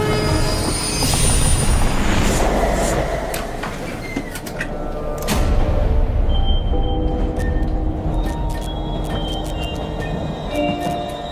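A passenger train rolls along with rumbling wheels and rattling carriages, the noise swelling and easing, with brief high squeals and clicks near the end.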